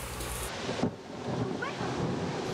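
A torrential storm during the September 2002 Alès flood: a loud, continuous roar of heavy rain with deep rolling thunder rumbling through it, close and enveloping, no voices.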